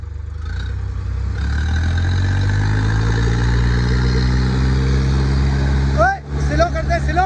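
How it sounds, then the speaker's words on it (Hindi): A Mahindra 585 and a Sonalika 745 tractor strain against each other in a tug of war, their loud diesel engines droning steadily and shifting in pitch, with people shouting over them near the end. "दोनों ट्रैक्टरों को बराबर क्लिच छोड़ो"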